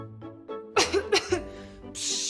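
A few sharp coughs in quick succession, close and fairly loud, separated by brief pauses, followed by a breathy hiss.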